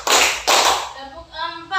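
Children clap their hands in a classroom, two sharp loud bursts of clapping in quick succession, followed by a voice speaking.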